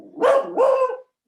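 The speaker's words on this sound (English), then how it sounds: "that's my dog" A pet dog barks twice in quick succession, close and loud, indoors at home, followed by silence.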